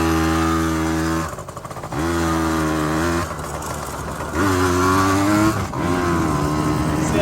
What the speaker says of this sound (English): See how high you can rev it up?